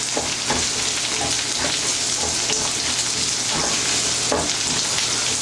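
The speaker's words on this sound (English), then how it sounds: "We're gonna go ahead and add the potatoes." Potatoes fry in fat in a pan for a Spanish tortilla, a loud, close, steady sizzle with crackles and soft stirring scrapes throughout.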